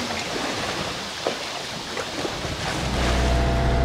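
Wind gusts across a sailboat at sea on a solo North Atlantic crossing, a steady rushing hiss with occasional buffets against the microphone, building to a louder low rumble toward the end.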